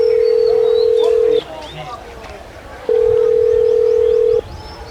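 A telephone ringback tone sounds during an outgoing call: two long, steady, loud tones separated by a pause, over faint background ambience.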